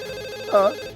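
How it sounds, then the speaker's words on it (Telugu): A cartoon telephone gives a single short electronic ring, a bright tone that swells briefly and fades, heard alone and close. "నేను ఈ ఫోన్ కాల్ అటెండ్ చేసి వస్తాను"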